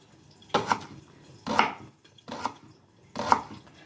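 A knife chops vegetables on a green vegetable cutting board in a home kitchen, four separate firm strikes spaced about a second apart, close and clear with quiet gaps between.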